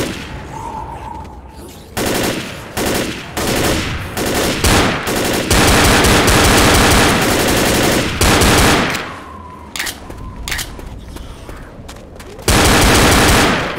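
Rapid automatic gunfire from the zombie shooter Left 4 Dead, loud and close, with dense sustained bursts broken by brief pauses and scattered single shots as a fight rages in a barricaded town.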